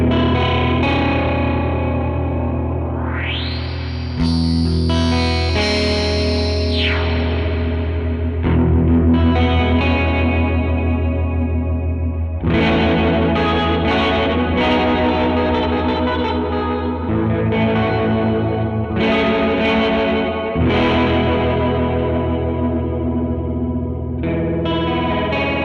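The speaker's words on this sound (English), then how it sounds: "I should try the reverb on it now." An electric guitar played through a Catalinbread Tremolo8 tremolo pedal with reverb, sustained chords pulsing and shimmering in a rising swell, ringing out loud and alone.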